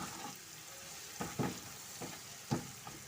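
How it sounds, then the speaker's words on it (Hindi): Masala frying with browned onions in a pan, a steady sizzle broken by periodic scraping stirs of a spoon, close and alone with no voices. "ये हम अपना मसाला भून रहे हैं"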